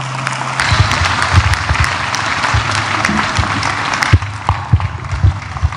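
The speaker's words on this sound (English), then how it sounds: "I think we can give him a better round of applause." Graduation ceremony crowd applauding a commencement speaker, steady loud clapping with a few sharp nearby claps standing out, no speech over it.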